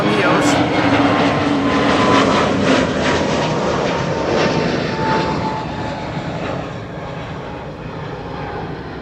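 KLM Airbus A321neo departing Schiphol's Kaagbaan runway, a loud sustained jet roar that slowly eases off, with a person talking over it.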